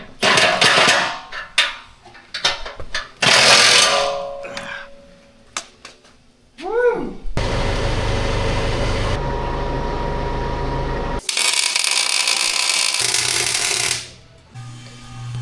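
A homemade leaf shredder with flat plates on a spinning rotor starts up loudly. A steady broadband roar holds for several seconds, then cuts out and gives way to more clattering mechanical noise.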